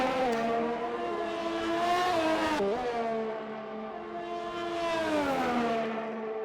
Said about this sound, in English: As the 86 Ferrari now enters the second chicane.